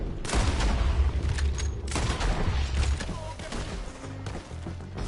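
Gunfire in the Red Dead Redemption II video game, a loud dense fusillade of rapid overlapping shots and booms filling the whole stretch, with shouting voices mixed in.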